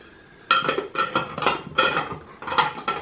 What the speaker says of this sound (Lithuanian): Dabar uždedam dangtelį.